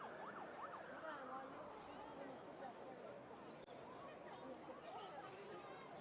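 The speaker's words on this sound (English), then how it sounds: "Hear the ambulance in the background." A wailing ambulance siren rises and falls in the distance at a girls' school rugby match, its faint sweeping tone drifting under nearby crowd chatter and talk.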